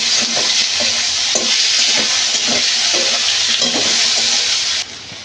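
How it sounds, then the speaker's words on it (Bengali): Chopped onions fry with potatoes in a pan, hissing with a loud, steady sizzle while a utensil scrapes and stirs in repeated strokes. The sizzle softens near the end. "এই পেঁয়াজটা আমি লাল লাল করে ভাজি করে দেবো।"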